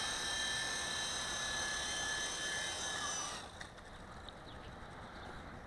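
A WLtoys V915 RC scale helicopter with a flybar comes in to land, its steady high-pitched rotor and motor whine cutting out partway through and leaving quiet outdoor background.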